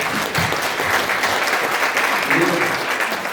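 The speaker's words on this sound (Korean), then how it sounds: "박수 한번 하시죠." Loud, dense clapping from an audience at a Korean political gathering, steady throughout with a voice briefly audible within the applause.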